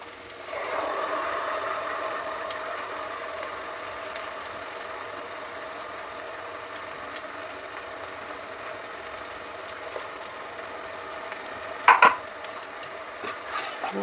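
Ginger garlic paste being stirred in a pan with a metal spoon, a steady faint scraping and sizzle continuing throughout, with a brief louder clatter of utensil against the pan near the end.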